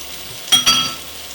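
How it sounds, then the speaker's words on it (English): Two quick soft splashes and a brief sizzling hiss as about a tablespoon of kosher salt is poured into boiling pasta water, then a low steady background. "That was about a tablespoon of kosher salt into my pasta water."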